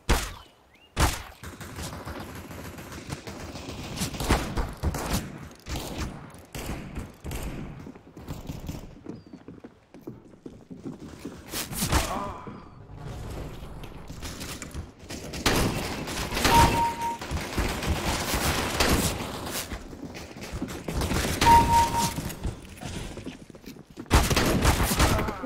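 Gunfire in Counter-Strike: Global Offensive, with repeated bursts and single shots spread across the round, loud and near, separated by short quiet gaps and faint in-game background noise.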